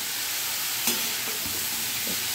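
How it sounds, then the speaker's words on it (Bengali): Chopped pointed gourd and pumpkin sautéing in a pan for a Bengali curry, giving a steady hissing sizzle with a few soft stirring scrapes and no voices. "এইবার আমি এই পটল, কুমড়ো এগুলো দিয়ে ভালো করে কষবো।"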